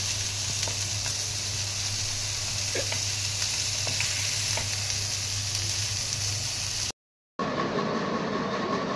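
Fish tawa fry sizzling slowly in a pan, masala-coated fish cooked on both sides, a steady close crackling hiss with faint occasional pops, cut by a brief silent gap near the end before the sizzle resumes.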